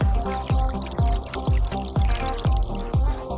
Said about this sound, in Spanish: colocas una parte en la botella y el resto queda sobresaliendo para poder filtrar el agua gota por gota